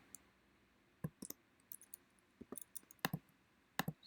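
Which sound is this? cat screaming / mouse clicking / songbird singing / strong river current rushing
mouse clicking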